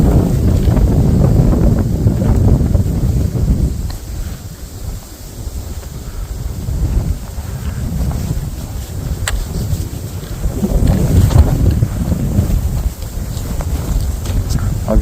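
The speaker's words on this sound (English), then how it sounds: "The wind is coming right into my face now." Loud, steady wind buffets the microphone on a winter hike, a low rumbling roar that surges and eases through the whole stretch with no voices.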